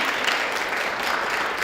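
Audience applause at a community media forum, a brief, dense wash of clapping that holds steady throughout, with no voices over it.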